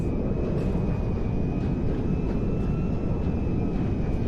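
C-17A Globemaster cargo plane in GTA 5, its engines giving a steady, fairly quiet droning roar with a sustained high whine and faint periodic ticks, no speech.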